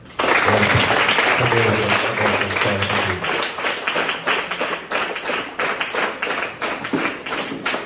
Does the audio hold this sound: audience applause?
yes